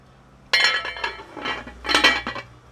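Metal and ceramic clatter in a few bursts as a lid is set and adjusted on a pot of curry turkey, close by with a faint background hum.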